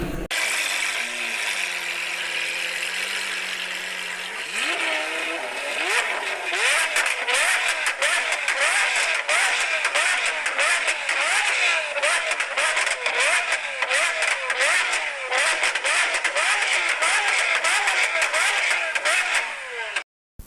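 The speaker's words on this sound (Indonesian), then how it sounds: "Mobil trending suara keras." A car engine revs repeatedly through a loud exhaust, rising and falling in quick bursts over a steady roar, after an idling start.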